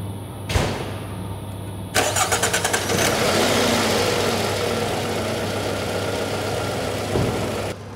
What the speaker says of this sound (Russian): Давай сейчас мы заведем машину и послушаем звук мотора